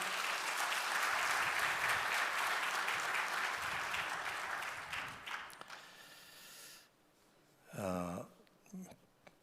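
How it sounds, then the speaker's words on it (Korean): A church congregation applauds loudly at a dedication thanksgiving service, the dense clapping lasting about six seconds before fading out, followed by a short stretch of a voice speaking. "우리 박수로 환영하겠습니다"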